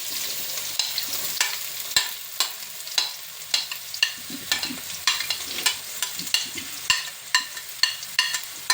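Chopped onions frying in hot oil for chicken curry, a constant sizzle broken by regular scraping stirs, roughly two per second, each giving a sharp crackling burst.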